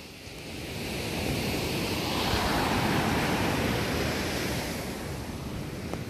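Surf rolls onto the beach at Paria Bay, a broad steady wash of breaking ocean waves that swells and holds, with some wind rumble and no talking.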